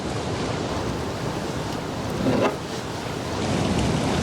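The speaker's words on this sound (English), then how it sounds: "the wash and the spray and the white water splashes up into the air" Ocean waves wash onto a shoreline, a steady broadband roar of surf and spray with a brief surge of splashing near the middle, heard alone with some wind.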